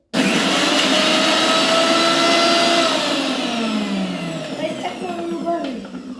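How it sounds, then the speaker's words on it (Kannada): A kitchen mixer grinder whirs loudly and steadily as it blends green idli batter, its motor pitch slowly dropping and settling as the load thickens. "ಈಗ ಮಿಕ್ಸಿಗೆ ಹಾಕೋದು"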